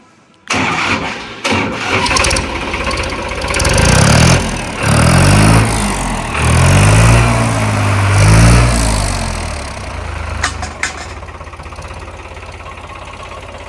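New Holland 3600 non-turbo tractor engine fitted with its original single-pipe silencer cranks and fires, then runs with a throbbing idle, revving up and down in several loud swells before settling back, with no talking.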